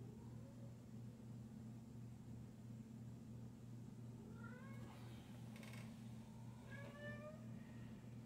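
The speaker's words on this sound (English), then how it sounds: "I don't know if you hear my cat, but he's back there meowing." A cat meows several times in the background, faint and somewhat distant, with rising and falling cries over a steady low hum in a room where guitar-shaped pinstriping is being painted.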